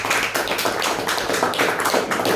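An audience at a civic forum claps steadily in a dense, continuous patter of many hands, fairly close and without talk over it.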